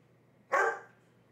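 A dog named Puppy Plasm gives a single sharp, close bark indoors in an otherwise quiet room, with a short trailing decay.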